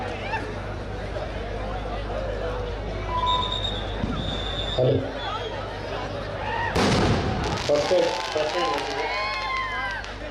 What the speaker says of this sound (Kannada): ಪಟಾಕಿ ಹೊಡೆಯೋರು ಒಂದ್ ಸ್ವಲ್ಪ ಗ್ರೌಂಡ್ ಇಂದ ದೂರದಲ್ಲಿ ಹೊಡಿಬೇಕಂತ ಕೇಳ್ಕೊಳ್ತಾ ಇದ್ದೇವೆ